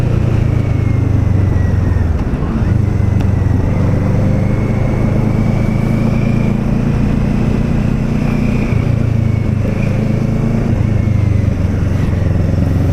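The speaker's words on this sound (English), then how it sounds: "I'm that goofball riding a freaking motorcycle" A Kawasaki Z650 motorcycle is ridden at steady cruising speed, its engine droning loud and close with low rumble and wind noise, gear and throttle shifts shading the pitch, no talking.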